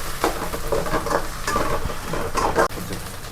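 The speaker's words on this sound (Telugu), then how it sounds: "అల్లం వెల్లుల్లి పేస్ట్ అయితే బాగా వేగిపోయింది" Ginger-garlic paste frying with onions in a pan, a close steady sizzle broken by scraping stirs of a spoon and a sharp clank near the end.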